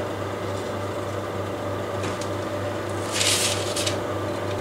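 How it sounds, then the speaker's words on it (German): A kitchen oven hums steadily after being switched on, a constant low drone with a brief brighter burst of noise partway through; no speech. "ich schmeiße schon mal den Backofen an"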